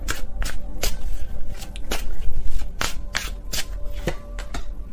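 Tarot cards are shuffled repeatedly, a run of crisp riffling bursts and slaps close up, with no talking.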